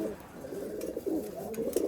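A pet pigeon coos in soft, repeated low phrases, fairly close, over a steady faint background hum with no voices.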